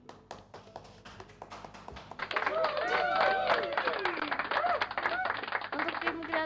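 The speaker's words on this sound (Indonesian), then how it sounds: "tepuk tangan untuk tim kreatif" A small group claps for a school podcast's creative team, scattered taps building into a burst of applause mixed with cheering voices, fairly close and lively.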